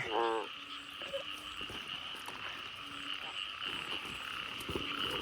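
Frogs croak in repeated, close pulses on a rainy night outdoors, over a constant high-pitched chorus from the surroundings, with a faint voice in the background.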